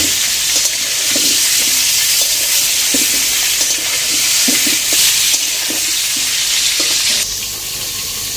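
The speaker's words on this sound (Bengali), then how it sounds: "আর হলুদ দিয়ে আলুটাকে ভালো করে ভেজে নেব" Potatoes frying with salt and turmeric for mutton biryani over a clay stove, a loud continuous sizzle with rhythmic stirring scrapes that fades a little near the end.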